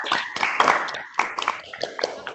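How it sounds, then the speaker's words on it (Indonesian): A primary school class claps for a group in a short, scattered burst of applause, close and uneven, with children's voices mixed in. "Tepuk tangan buat kelompok 1."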